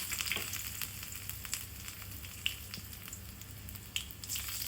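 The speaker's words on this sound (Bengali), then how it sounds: "এবার এই তেলে আমি কিছু ফোড়ন দিয়ে দেব" Black cumin seeds and chopped garlic sizzling in hot oil, a steady close crackle with scattered sharper pops and spits over a few seconds.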